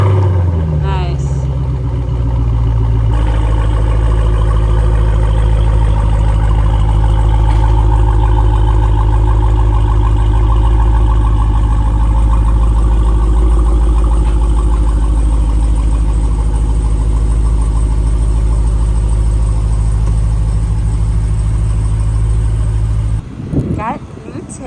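A Jeep Grand Cherokee TrackHawk idling with a new Valvetronic exhaust fitted, a steady deep throaty rumble held loud and close for over twenty seconds, with a short rise at the start and a cutoff near the end.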